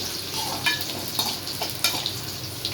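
Garlic sizzles in hot oil in a pan for a curry made with curry leaves and cumin, a steady close crackle broken by a few sharp scraping stirs, with no voices.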